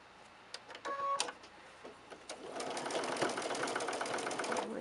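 Sewing machine stitching a quarter inch seam on a quilt block: a few short starts and clicks, then a steady, fast mechanical whir close up, with no talk.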